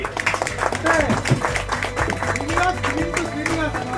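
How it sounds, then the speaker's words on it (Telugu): An audience applauds at an award ceremony, steady dense clapping throughout with voices mixed in. "గట్టిగా చప్పట్లు కొట్టాలి."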